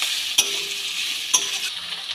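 Chopped beans and vegetables fry in a pan for a vegetable spring roll filling, a steady close sizzle broken by two sharp scrapes of a spoon stirring, with no voices.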